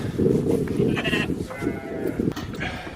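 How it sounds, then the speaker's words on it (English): Sheep bleat repeatedly and fairly close during a sheep wrestling catch, the calls loud and overlapping with scuffling and rustling throughout. "There's a little sheep wrestling."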